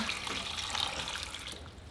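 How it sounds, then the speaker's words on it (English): Water poured over tomatoes and chiles in a cooking pot, a quiet, steady splashing trickle lasting about two seconds. "So we're just going to bring them to a boil together and just cover them with water."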